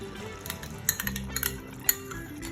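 A spoon adds yogurt to partly cooked chicken in a pot for chicken do pyaza, making a few sharp metallic clinks and soft scrapes against the pot, close and without talking.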